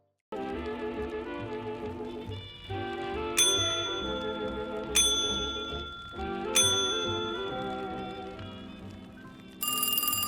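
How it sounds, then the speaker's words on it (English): A game bell sound effect rings out in repeated bright, metallic strikes over a sustained tonal background, roughly four clear dings spaced a couple of seconds apart, with no voices. "I am just testing out the bell sound"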